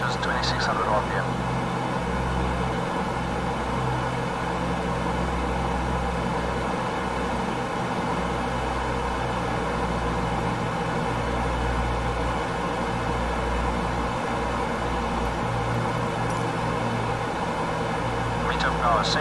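A piston aircraft engine in Microsoft Flight Simulator 2020 drones steadily at meter power, 48 inches manifold pressure and 2600 RPM, a constant loud hum under radio-style talk.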